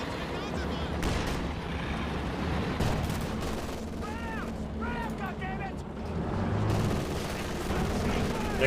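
Dense, continuous gunfire and machine-gun bursts from the game Company of Heroes 2 fighting around a building. A commentator talks over it throughout, with rattling volleys and whistling shells layered underneath.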